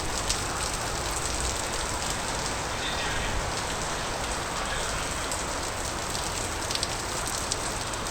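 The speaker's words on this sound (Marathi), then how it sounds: "अचानक पाऊस चालू झाला आहे" Heavy rain pours steadily over a Konkan village under cold, overcast skies, a dense unbroken hiss of drops on surfaces lasting throughout with no voices.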